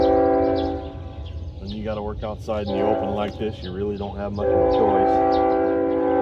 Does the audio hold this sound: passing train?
yes